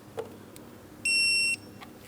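Digital torque wrench emits a single clear high beep lasting about half a second on reaching set torque while tightening a belt tensioner mounting bolt on a 2003-2007 Cadillac CTS 3.6L V6, with faint clicks around it.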